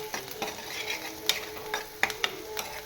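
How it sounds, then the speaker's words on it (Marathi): Fresh green cashews dropped into a frying pan over turmeric and chopped coriander, giving a soft steady sizzle with small clicks and taps as the nuts land and are stirred, close and fairly quiet. "आता मी काजू टाकते"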